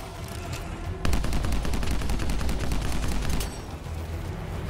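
Rapid automatic gunfire in the video game Anthem, a dense run of sharp shots lasting a few seconds, loud and close, then fading back to background game noise.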